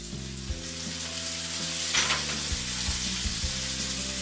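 Tomato frying in oil with mustard seeds and cumin, a continuous close sizzle with a brief surge of spattering partway through and a steady hum running underneath.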